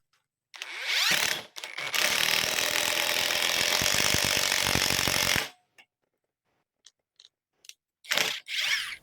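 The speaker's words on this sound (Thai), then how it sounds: "ก็จะมายิงสกู2นิ้วกันก่อน" A cordless impact driver, a TEH LID230 on torque level one, hammers a two-inch screw into wood in a long, loud rattling burst, followed by a few short clicks and one brief final burst.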